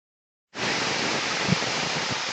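Chicken feet hitting hot oil in a wide pan, a sudden onset of steady, loud-ish sizzling hiss that continues evenly with faint clatter underneath.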